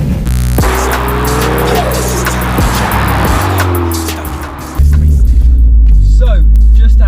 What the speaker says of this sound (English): just out test driving the vehicle on the road now, and the power is just absolutely insane.